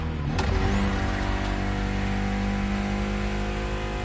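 Mitsubishi inline four-cylinder engine of about 280 horsepower in The Crew Motorfest, a steady loud drone holding one pitch after a brief rev at the start, close and continuous with no talk.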